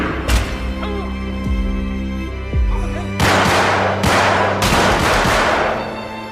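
Gunshots ring out in a yakuza film scene, several loud sharp reports with booming tails, a few spaced shots early followed by a denser cluster of blasts, all close and forceful.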